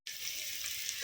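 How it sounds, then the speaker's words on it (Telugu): Onions frying in oil with shahi jeera and bay leaf for bagara rice, a bright steady hiss that starts abruptly and holds evenly for about a second with no voices. "చూడండి ఉల్లిపాయలు వేగుతూ ఉన్నాయి కదా"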